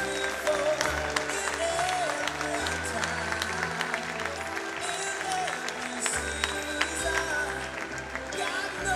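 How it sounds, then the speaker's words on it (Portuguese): An audience gives the crew a round of applause at an event, a steady wash of clapping with voices and some tonal sound underneath. "Uma salva de palmas para eles também."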